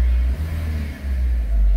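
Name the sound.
Audi A4 B6 1.8T quattro engine restarted and running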